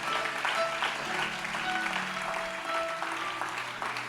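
A church congregation cheering and applauding the Lord, sustained clapping and scattered shouts mixed with a sustained tone, at moderate distance.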